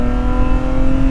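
A time attack car pulling hard in third gear, its engine droning with a steady, strong tone throughout, loud and close, with no talk over it.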